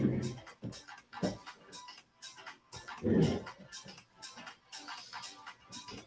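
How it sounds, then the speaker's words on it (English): Small dogs barking and yelping in a scuffle indoors, with sharp bursts, whimpers and growly yips coming in irregular clusters, fairly close and loud at moments. "Sorry, I had a little dog fight."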